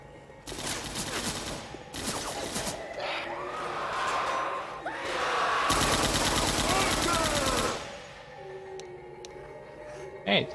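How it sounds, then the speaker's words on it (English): Gunfire in Left 4 Dead 2: loud rapid automatic bursts and single shots, including a sustained fusillade near the end, mixed with game voices and grunts. "These guys are just shooting randomly."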